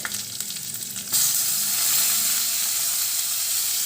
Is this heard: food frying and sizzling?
yes